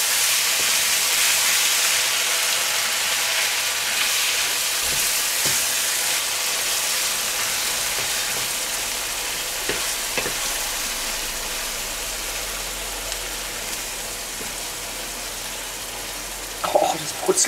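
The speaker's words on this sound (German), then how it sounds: "Brutzelt ganz gut." Food sizzling and frying in a pan while cooking lasagne with bacon, a steady, fairly quiet hiss that continues throughout with a few faint clatters near the end.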